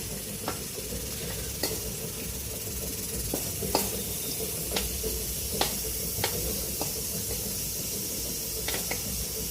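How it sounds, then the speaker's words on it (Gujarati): Steady sizzling of cloves, coriander and cumin sautéing in hot oil, with scattered sharp clicks of a spoon stirring against the pan throughout. "અને આને હું થોડું સાંતળી દઈશ"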